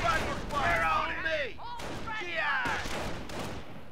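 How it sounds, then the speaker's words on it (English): Mortar team firing in the video game Company of Heroes, with booming shots and whistling incoming rounds amid battle noise, and someone talking over the action. "Yeah. A mortar team."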